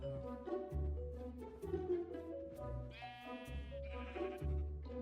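Video game sheep bleating in a farm world, several short nasal bleats repeating at uneven intervals, clear and fairly close with no talk.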